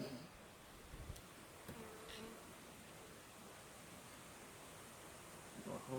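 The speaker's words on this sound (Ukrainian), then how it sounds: "Оце о, пішли бджоли." A soft, steady insect buzz, like many bees humming together, runs under a broad hiss, with a few faint clicks and knocks near the end.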